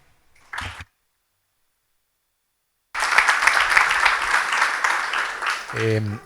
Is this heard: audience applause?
yes